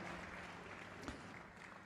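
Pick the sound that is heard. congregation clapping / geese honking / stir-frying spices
congregation clapping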